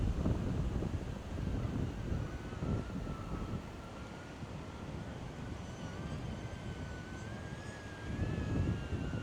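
Outdoor wind buffeting a microphone while a DJI Neo drone flies low, a continuous loud rumbling roar with gusts swelling and easing, and a faint thin whine riding above it.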